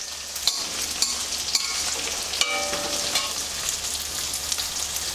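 Banana flower petals fry in hot oil with a loud, continuous sizzle and crackle, stirred occasionally with soft scraping clicks.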